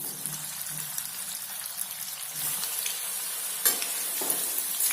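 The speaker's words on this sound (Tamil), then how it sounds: "அப்படியே கிளறி வச்சுக்கலாம்." Cauliflower florets being stirred into a batter for gobi Manchurian, a steady soft wet hiss with a few scattered scraping clicks near the end, no talking.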